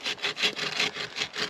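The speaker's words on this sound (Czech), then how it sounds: "Snažit se řezat to rovně, to znamená nemít třeba tu pilu nakloněnou" A hand saw cuts through wood for a bow drill fireboard, with steady rhythmic back-and-forth rasping strokes, about four per second, close and clear with no talking.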